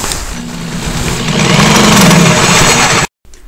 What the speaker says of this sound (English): we are done drilling our holes